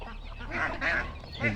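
Ducks honk and call in a short, lively burst, fairly close, with a faint murmur of background noise.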